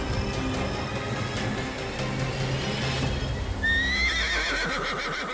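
A horse whinnies loudly amid steady clip-clopping hooves, the neigh rising sharply near the end over a continuous trotting rhythm, with no talking.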